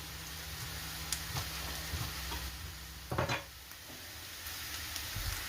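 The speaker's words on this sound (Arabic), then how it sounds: "دابا بعد ما البصله ديالتي ها هي استفريتا" Chopped onion fries in a pan for a cigar-style filling, giving a steady soft sizzle with a few stirring scrapes and one louder clatter midway; no talk.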